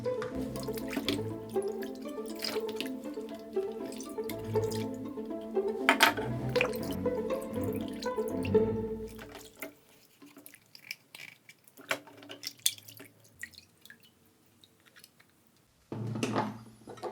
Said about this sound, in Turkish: Şimdi diğer parçaları şöyle bir sudan geçirmek iyi olacaktır.